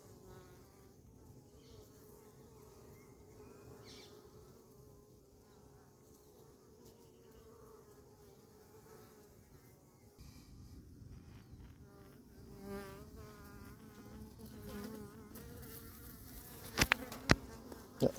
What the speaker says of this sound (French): Je vais voir s'il n'y a pas trop d'abeilles qui reviennent.